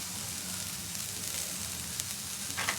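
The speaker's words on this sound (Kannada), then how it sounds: "ಅದ್ರಲ್ಲಿ ನೀರೇನಿದೆ ಅದು ವಾಟರ್ ಕಂಟೆಂಟ್ ಹೋಗೋ ತನಕ ಚೆನ್ನಾಗಿ ಫ್ರೈ ಮಾಡ್ಕೊಳ್ಳೋಣ" Vegetables fry in a pan with just a little oil, giving a steady close sizzle and crackle that runs throughout, with occasional brighter pops and spits toward the end.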